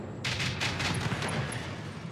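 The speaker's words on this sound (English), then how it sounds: "Oh, the turrets are doing work." Automated turrets fire in the mech combat game Battletech, a dense, steady barrage of rapid shots that rings out loud and continuous for about two seconds with no talking.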